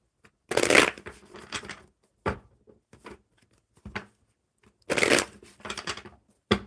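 Playing cards are shuffled in two loud riffling bursts, each followed by softer taps and squaring of the deck, close by with no talking.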